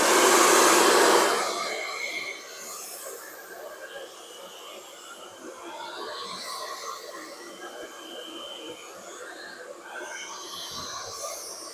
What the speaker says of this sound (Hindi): अब हम स्ट्रेट ड्रायर करेंगे, वो भी मीडियम हीट पर ही करेंगे।